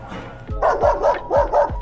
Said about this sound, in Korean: 장어를 먹은 개가 짖는다.